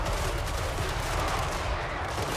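Volleys of pistol gunfire from a regiment of pirate troops in the Total War Warhammer 3 strategy game, a dense continuous crackle of overlapping shots under battle noise with no pauses.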